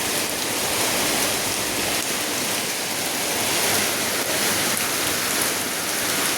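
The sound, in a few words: heavy rain falling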